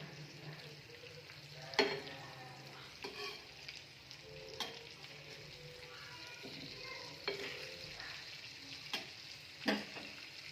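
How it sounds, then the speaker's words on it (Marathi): Fish frying in a pan gives a steady sizzle for about ten seconds, broken by occasional clinks and scrapes as the pieces are moved, close up with no talking. "हे बघा, आपले मासे चांगले 4-5 मिनटं फ्राय झालेत. आता आपण यांना पलटून घेऊया."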